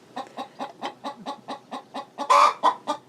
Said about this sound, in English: my chicken is having a little bit of a fit